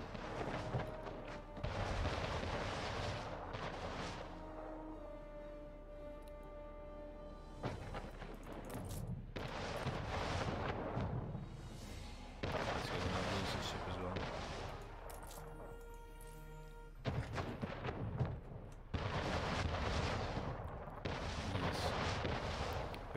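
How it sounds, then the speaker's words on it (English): Cannon fire booms in the naval battles of Anno 1800, with repeated heavy blasts and rumbling explosions arriving in waves over about twenty seconds, mixed with game sound and occasional speech. "These majestic cannon."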